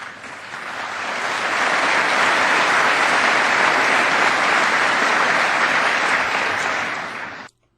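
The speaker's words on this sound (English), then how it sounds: "Did you hear that applause?" Loud, sustained applause from a large audience during a speech by President Macron, swelling to a dense steady wash of clapping that holds for several seconds before cutting off abruptly.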